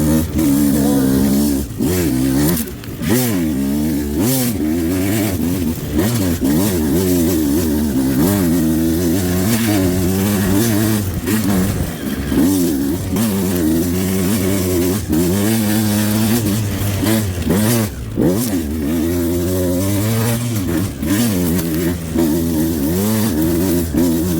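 A 2025 Beta 200 race edition dirt bike with an RK head pulls hard through the gears, its loud, close two-stroke engine rising in pitch, dropping at each shift and climbing again continuously.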